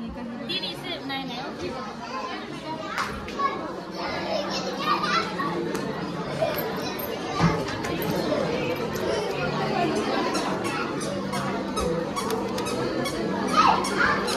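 A crowded shop during Diwali bustles with overlapping chatter, children's voices and occasional squeaks, a steady busy murmur of many people talking close and far throughout.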